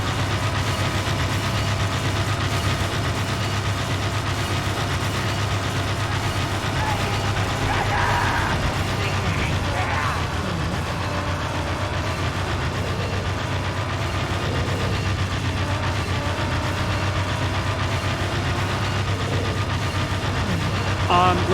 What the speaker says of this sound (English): Well, also, listen to this engine.